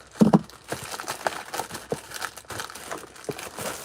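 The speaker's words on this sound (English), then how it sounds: "I'm using crafting scissors to cut open." Crafting scissors snipping and crinkling through a mailed package, a few soft crunchy cuts and papery rustles up close, with a louder crinkle near the start.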